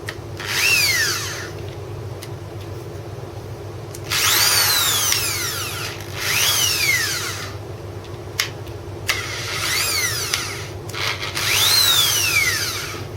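An electric hand drill running in reverse whirs in several bursts, spinning up and winding down between short pauses, close and loud.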